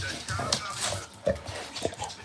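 A dog makes snuffling, grunting and whimpering noises close by, in irregular short bursts over a noisy indoor background, with faint voices mixed in.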